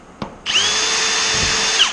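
A power drill spins up with a bit in it and runs at a steady high whine, loud and close, preceded by a brief knock in a workshop where an aircraft kit is being built.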